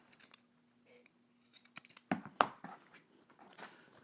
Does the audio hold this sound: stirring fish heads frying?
no